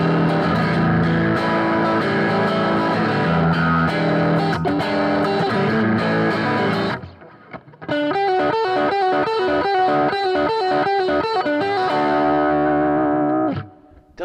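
Electric guitar played through a JTM45 amp model on a Positive Grid Spark, first dense distorted strummed chords, then after a brief gap a cleaner picked riff with ringing repeated notes, loud and alone.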